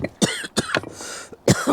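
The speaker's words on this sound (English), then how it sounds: "Tickly cough." A run of several raspy coughs in quick succession, close by, with short pauses between bursts and a final pair of harsher coughs.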